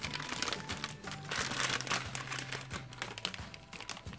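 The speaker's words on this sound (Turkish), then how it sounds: "Şimdi açıyorum bunu kutusundan." Cardboard box packaging of a Japanese candy-making kit being opened, with close, crinkly rustling and tearing that continues steadily for a few seconds.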